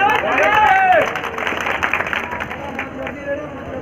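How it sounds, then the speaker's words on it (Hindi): A crowd at a bodybuilding tournament claps and applauds briefly, moderately close, mixed with a loud announcer voice and general crowd chatter in the background. "भाई राजीव राठौर के लिए जोरदार तालियां हो जाए"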